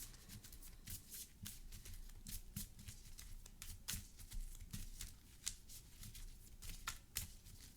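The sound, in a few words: shuffling a deck of playing cards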